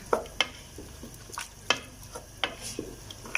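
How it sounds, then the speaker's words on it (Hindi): Black chickpeas being stir-fried in ghee: a soft, continuous sizzle broken by sharp, irregular scraping knocks of a spoon against the pan, close and alone, with no talk. "तो अब इसको अच्छी तरह आपने भूनना है"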